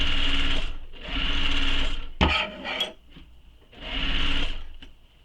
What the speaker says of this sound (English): I'm going to stitch this the same way I stitched the other side